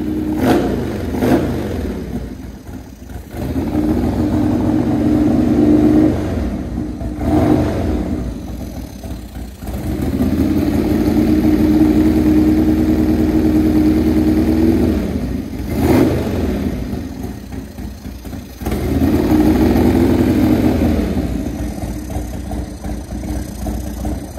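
A 1996 Buell S1 Lightning motorcycle engine runs close by with a deep, throbbing idle, swelling in several sustained revs that drop back to a lumpy idle between them, with no talking.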